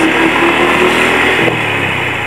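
A small motor bebek motorcycle, a semi-automatic underbone, revs hard in second gear with a loud, steady, high-pitched whine that drops slightly as the throttle eases near the end.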